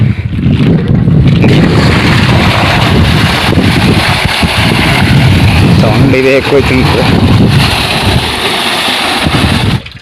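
A second-hand motor pumping water from a pit on a farm runs as a steady, loud, rough drone with wind buffeting the microphone, while someone speaks briefly over it.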